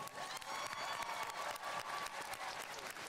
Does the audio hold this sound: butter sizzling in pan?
no